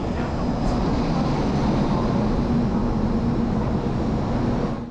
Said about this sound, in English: Our train pulls in 8 minutes before scheduled departure.